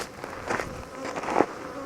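Bees buzzing around outdoors in the wild, several insects droning close by in uneven passes that rise and fade, one swelling louder as it flies near, with no talking.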